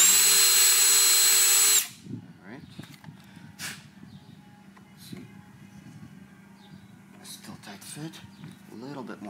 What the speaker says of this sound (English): So let me drill it out slightly more.